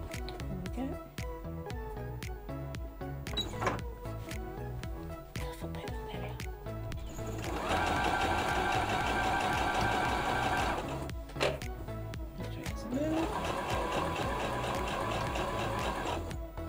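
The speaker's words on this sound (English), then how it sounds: "I'm going to use the sewing machine for that." A Brother 1034D machine runs in steady bursts of rapid mechanical stitching, pausing briefly between runs, loud and close.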